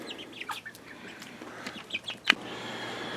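Small chicks in a brooder peep and chirp in short, scattered calls, with one sharper, louder peep near the end, all fairly close against a quiet background.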